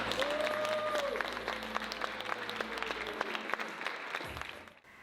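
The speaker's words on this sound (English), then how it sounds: "Can we please give Isaiah Firebrace a big round of applause?" A school audience at Yirara College applauds a guest performer, steady dense clapping at moderate distance with a brief voice near the start, fading out at the end.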